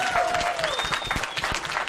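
Crowd applause fills a political gathering about the January 8 amnesty, a dense steady patter of many hands clapping throughout, with whistles and cheering voices mixed in.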